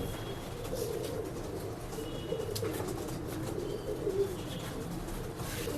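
Pigeons in a pet shop in Bangalore coo softly and continuously, low murmuring calls layered over steady background hum, with faint chirps and a brief flutter.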